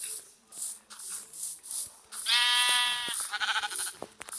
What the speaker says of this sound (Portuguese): Ô, ovelha.